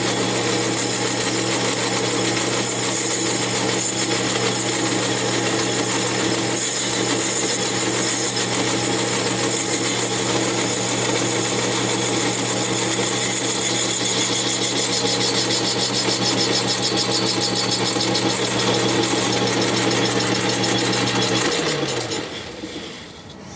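A machining cut on an Echo CS8000 chainsaw cylinder base gives a steady, even machine whine and hum that holds for over twenty seconds, then winds down as the cut finishes.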